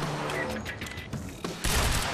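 Bursts of gunfire in the shooter game Quantum Break, a dense wash of shots that swells louder near the end, with no talking over it.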